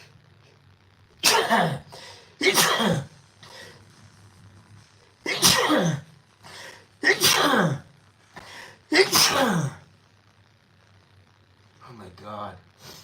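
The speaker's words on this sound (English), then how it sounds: "Every stream I gotta sneeze." Several loud, close sneezes from one person burst out in quick succession with short pauses between them, each a sharp explosive blast, followed by a gasp and faint breathing; a voice speaks briefly in between.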